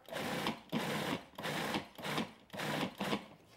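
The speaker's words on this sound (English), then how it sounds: "I'm just going to quickly pulse it in the machine and then we'll take it out." Edamame guacamole pulsed in a food processor, four or five loud whirring bursts in quick succession with short gaps between them, close and alone.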